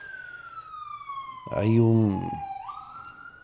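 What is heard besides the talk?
emergency vehicle siren outside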